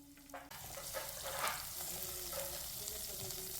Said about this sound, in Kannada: ಹಸಿಮೆಣ್ಸಿನ್ಕಾಯಿ ಒಂದು 3 ಈ ಥರ ಹೆಚ್ಚಿಟ್ಕೊಂಡಿರೋದು, ಹಾಗೆ ಬೆಳ್ಳುಳ್ಳಿ 2 ಒಗ್ಗರಣೆಗೆ ಹಾಕ್ಕೊಂಡು ಸಾಟ್ ಮಾಡ್ಕೊಳ್ಳಿ.